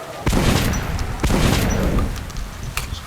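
Gunfire in the video game Metro: Last Light: two sharp, loud shots about a second apart, each trailing into a booming echo, followed by a fainter crack near the end.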